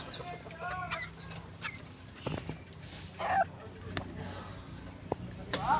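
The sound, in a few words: young white junglefowl (labuyo) chicks clucking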